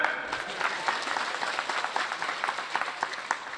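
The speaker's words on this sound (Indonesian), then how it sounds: "Tepuk tangan." Audience applause at an Islamic religious lecture in a Javanese village, a dense steady patter of many hands clapping throughout, fairly close and alone without talk.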